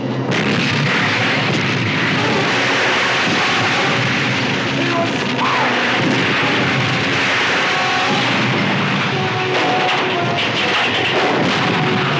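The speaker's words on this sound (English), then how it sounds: "Fire number 1 turret." Heavy naval turret guns fire from a warship in a 1961 monster film, a dense, continuous roar of booming blasts filling the whole stretch at high loudness with no pause.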